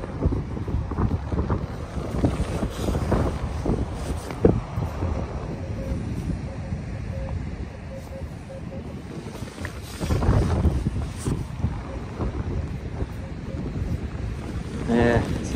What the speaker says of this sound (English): I'm trying to keep my back to the wind here